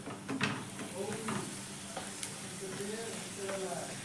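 An egg paratha fries in hot oil as it is flipped, giving a soft, steady sizzle with a few faint scraping clicks of a spatula.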